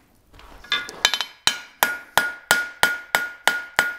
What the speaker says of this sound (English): I'm gonna take the hammer and flatten this out a little bit